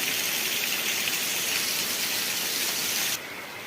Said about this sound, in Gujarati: વરસાદ અમારે તો બહુ સારો પડે છે